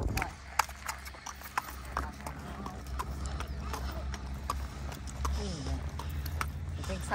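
Horse hooves clip-clop steadily during a riding lesson, the irregular thuds continuing throughout over a low rumble, with an instructor's voice heard now and then.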